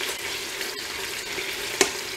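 Duck or meat skin frying in a pan for a Mongolian hot pot, giving a steady close sizzle with crackling and one brief louder pop near the end.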